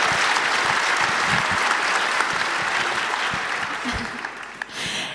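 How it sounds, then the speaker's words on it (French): An audience claps loudly and steadily for several seconds, the applause thinning slightly toward the end. "Vous pouvez applaudir, allez."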